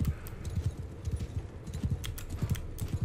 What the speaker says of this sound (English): a horse like this would run over that sapling with wild abandon